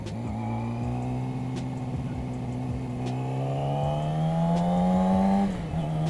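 A 2009 Yamaha YZF R6 600cc sport motorcycle accelerates hard in first gear, its engine pitch climbing steadily as revs rise, loud and close, with a brief dip near the end.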